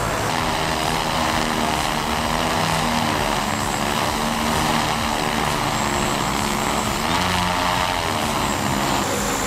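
The Sky Skopes MFD 5000 heavy lift drone, carrying a load of up to 75 pounds, flies and auto-lands outdoors with a loud, constant whirring buzz from its propellers and a steady, droning hum close by.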